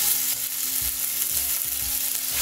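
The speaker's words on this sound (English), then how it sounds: "So we're gonna brown these steaks on both sides." Thin NY strip steak braciole, tied with string, browning in a hot pan, giving a continuous bright sizzle with soft, irregular low bumps from the meat being moved, close and alone with no voices.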